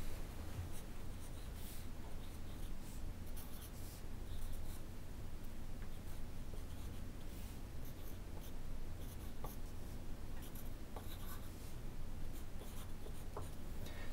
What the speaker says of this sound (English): what I want you to do is make a clock for me by putting in all the numbers